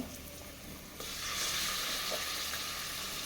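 Mutton pieces dropped into a pan of frying onions, a loud steady sizzle jumping up after a brief quieter start and holding constant, close and alone without talk.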